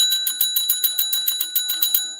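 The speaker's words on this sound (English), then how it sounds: "I'm ringing that bell." A small bell rings in a rapid, steady run of about a dozen bright metallic dings, loud and close with no talking.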